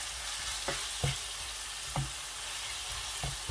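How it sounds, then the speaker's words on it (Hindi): Chicken masala boti pieces fry in a pan with a steady, close sizzle, broken by soft knocks of stirring about once a second. "अभी अच्छी तरह से मैं भूनूंगा, तकरीबन 5 मिनट तक सही से भूनूंगा मैं, ताकि गोश्त जो है वो पक जाए।"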